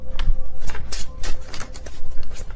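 Tarot card deck shuffled close up, a dense run of crisp riffling and slapping card noises in quick bursts, loud and continuous with no talk.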